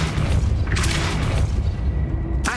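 A Depulso spell cast in the video game Hogwarts Legacy lands as a loud, booming blast over continuous low rumble, with a sharper burst near the end.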